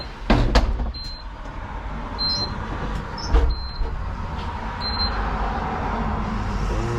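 Inside a bus, a low engine hum runs throughout while a few mechanical clunks and short high electronic beeps sound as the doors close with warning tones.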